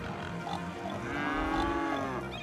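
Cattle moo in the city-building game Cities: Skylines. Several low, drawn-out moos overlap and rise and fall, fairly close and clear, with no talking over them.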